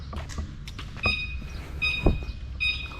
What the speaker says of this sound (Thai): เสียงรถไฟฟ้าไอ้จั่ว